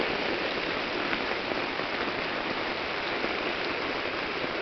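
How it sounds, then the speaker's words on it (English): Steady rain falls beside a flooded creek on Christmas, a continuous dense hiss of drops with rushing water blended in, even and close with no voices. "Some people got snow. You got rain."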